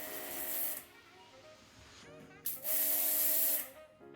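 H&L electric high pressure cleaner throwing a wide water spray: two loud hissing bursts with a quieter pause between, the second burst longer, then an abrupt cutoff.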